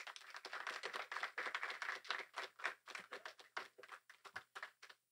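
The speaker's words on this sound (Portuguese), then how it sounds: "Vamos recebê-los com uma salva de palmas" Small audience clapping to welcome guests onto a hip hop talk event, a dense patter of hand claps that is fairly faint and thins toward the end, with no voices.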